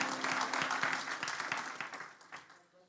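A church congregation bursts into loud, dense applause, many hands clapping at once, then it thins and fades over about three seconds.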